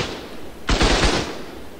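A machine gun turret in ARK: Survival Evolved lets off one short, loud burst of rapid shots close by, rattling for about half a second before it cuts off into quiet.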